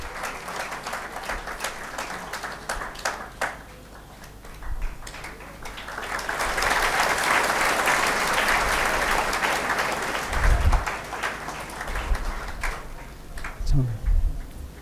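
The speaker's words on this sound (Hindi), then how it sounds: "तो जोरदार ताली से इनका स्वागत करेंगे।" An audience at a seminar in Begusarai, Bihar, applauds to welcome a guest. A swelling wash of clapping builds and holds for several seconds, then fades, with a voice speaking over a microphone before and after.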